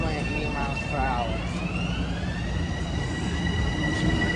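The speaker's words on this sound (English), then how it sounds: "Here's this train. Leaving it going at 80 miles per hour." Train passing at speed at Mineola station, a steady loud rushing roar with a wavering high horn-like tone and a long sustained whine over the whole stretch.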